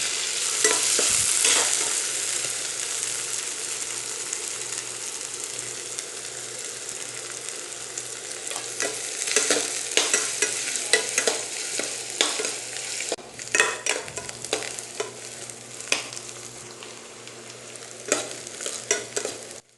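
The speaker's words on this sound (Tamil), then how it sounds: "அதோட வெங்காயம் சேர்த்து வதக்கிடலாம்." Onions sautéing in oil in a pan for an egg kulambu, giving a steady close sizzle broken by frequent scraping strokes from stirring, with no talking.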